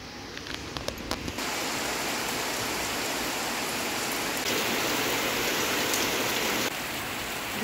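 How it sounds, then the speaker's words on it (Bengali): Steady heavy rain pours down during a monsoon storm, a dense even hiss that starts after a few faint taps and stays loud and close throughout, with no voices. "এইদিকেও বৃষ্টি নেমে গেল"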